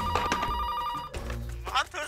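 A telephone rings with an incoming call, a steady repeating electronic ring that runs through the clip under and between voices, with people talking over it.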